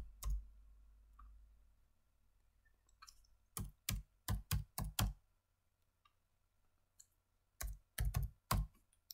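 Quiet computer keyboard typing in two short bursts of rapid keystrokes separated by a pause, close and clicky, while filling in a provisional patent application form.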